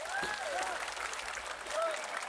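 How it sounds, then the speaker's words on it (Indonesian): A crowd at a religious study and question-and-answer gathering applauds for Mas Agus, a steady, dense wash of clapping heard from a distance and fairly quiet, with faint tonal whistles drifting through it. "Tepuk tangan untuk Mas Agus."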